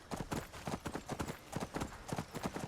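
Horse hooves clip-clop steadily in Skyrim, a close, rhythmic run of even beats continuing throughout with no voices over them.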